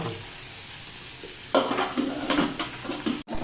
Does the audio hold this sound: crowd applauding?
no